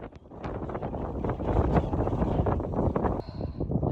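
Strong gusty wind on a Pyrenees mountain trail buffets the microphone with heavy, continuous roaring and rumbling, loud throughout with no voices.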